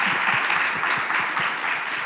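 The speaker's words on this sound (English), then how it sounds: "If we can do one more hand of applause here for Linda" Loud, dense applause from a conference audience for a speaker, a continuous close wash of clapping with no pause across the short stretch.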